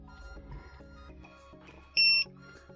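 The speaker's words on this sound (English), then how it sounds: "So once you disconnect the battery, you will soon see you have activated the alarm." A Flywoo Explorer LR long-range drone sounds its alarm buzzer after the battery is disconnected: one short, shrill electronic beep, loud against faint background music and clatter.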